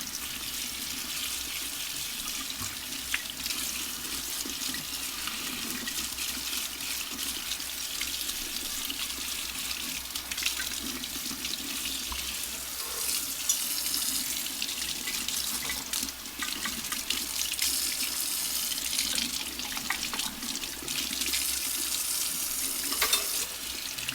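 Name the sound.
tap water rinsing a lantern part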